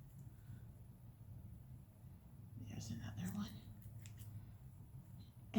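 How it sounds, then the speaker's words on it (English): Sharp scissors snip through loops of yarn wound for a pom-pom, a few quiet close-up cuts clustered in the middle over a low steady hum. "take your scissors and just start to snip the loops in half, like so"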